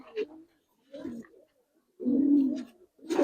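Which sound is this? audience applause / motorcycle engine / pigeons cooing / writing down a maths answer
pigeons cooing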